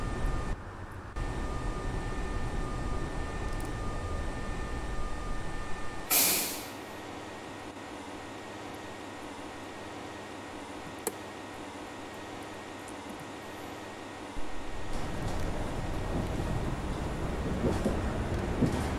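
An MBTA train in the OMSI 2 simulator rumbles along with a steady low hum, interrupted by a sharp hissing air brake release midway, then the running noise continues and swells again toward the end.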